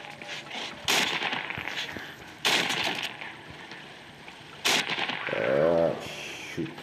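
Gunfire in the zombie game Into The Dead 2, several bursts of loud close shots separated by pauses, followed by a brief buzzing mechanical tone.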